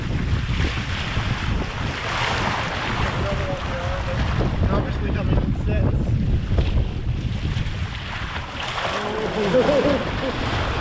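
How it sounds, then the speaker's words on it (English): Large ocean swells roll and wash around a fishing kayak at South West Rocks, a continuous surging roar mixed with heavy wind buffeting on the microphone and some speech. "Here are some of the big waves chasing us."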